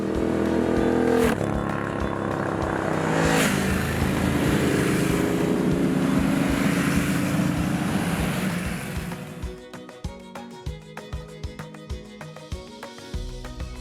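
Ducati Multistrada motorcycle riding twisty roads in northern Thailand, its engine droning steadily and loud under wind noise, then giving way to a choppier, pulsing stretch near the end.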